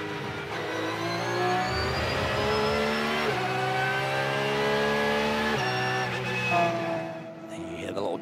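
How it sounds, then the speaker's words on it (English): A Porsche GT race car at Road America works through its gears, throttle cracking and a sustained drivetrain whine rising in pitch, heard at a distance under a commentator's voice. "Crack of the throttle, the whine of the drivetrain on that Porsche."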